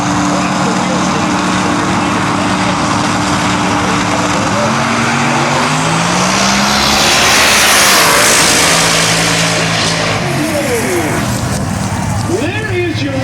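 Pro mod drag cars in an XDR heads-up eighth-mile race launch and roar down the track, a loud, continuous engine blast that swells as they pass, with an announcer talking over it.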